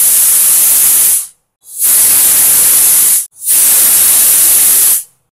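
A pressure cooker vents steam while mutton cooks: three strong, close hissing bursts of more than a second each, separated by brief silences.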